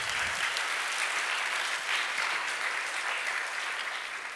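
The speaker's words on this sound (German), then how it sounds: "Drum kriegt er seinen Applaus in Abwesenheit" Steady audience applause at a youth science competition award ceremony in Augsburg, clapping for a prize winner who is not present, even and continuous with no talking.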